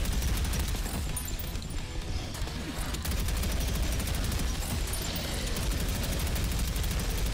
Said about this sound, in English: I'll take that minigun. Thank you. And we're just going to mow dudes down. Because that's what you do with a minigun.